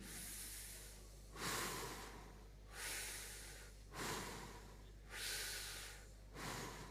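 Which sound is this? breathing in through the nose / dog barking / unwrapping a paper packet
breathing in through the nose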